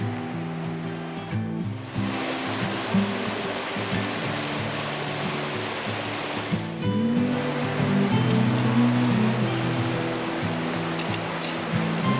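Water rushes steadily over rocks at a mountain creek crossing on a Trampas Lakes trail, a continuous broadband roar with a faint low drone underneath.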